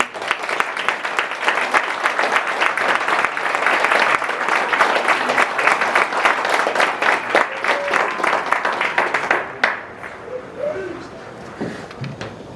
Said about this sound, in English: please join me in a round of applause for the company staff of Company C.